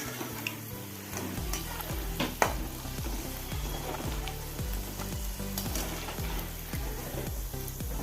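Banana stem chips fry in hot oil as they are stirred: a constant bubbling sizzle with repeated scraping and clicking strokes from the stirring utensil, close and even throughout.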